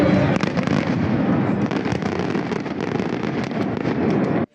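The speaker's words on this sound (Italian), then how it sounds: "I botti costano un quinto e divertono di più." Fireworks and firecrackers bursting continuously at a New Year's celebration in Trieste, a dense, loud barrage of overlapping pops and crackles with no gaps, stopping abruptly at the end.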